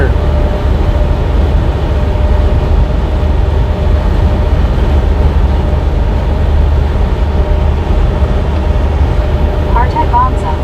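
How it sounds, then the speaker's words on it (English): A big freight train rolls past at roughly 65–68 mph, a steady, loud low rumble that holds for the whole stretch, with a brief higher squeal or horn-like tone near the end and talk faintly underneath. "that freight train is hooking it"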